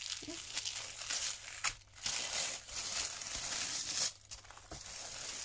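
Tissue paper crinkles and rustles steadily as an advent calendar gift is unwrapped, a close, busy crumpling with a few brief pauses and no speech.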